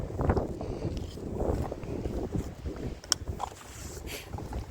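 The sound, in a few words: wind blowing outdoors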